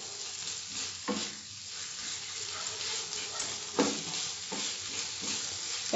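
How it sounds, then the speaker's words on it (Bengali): Boiled eggs fry in masala in a pan over a raised flame for Andhra-style egg fry, a continuous close sizzle broken by several scraping stirs of a spatula, with no talking. "এটাকে ভালো করে ভাজতে হবে।"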